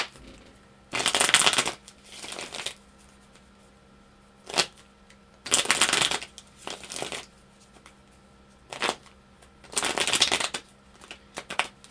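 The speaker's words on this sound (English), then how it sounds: "let's get some cards out here" Tarot cards shuffled close by in several bursts of crisp riffling and flapping, separated by brief quiet pauses during a general reading.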